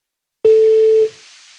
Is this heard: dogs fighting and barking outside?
no